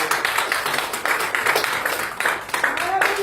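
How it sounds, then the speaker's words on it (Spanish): A church congregation applauds for the Lord, dense rapid clapping continuing steadily from many hands, with voices mixed in under it. "Denle un fuerte aplauso al Señor."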